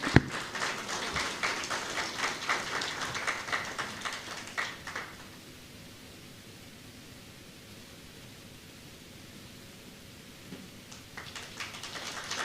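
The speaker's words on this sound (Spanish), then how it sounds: "Vamos a recibir por favor con fuertes aplausos al coro Nueva Alegría" Congregation at a Sunday church service claps to welcome a choir, a quiet, steady patter of applause lasting about five seconds before it stops, leaving faint background hiss.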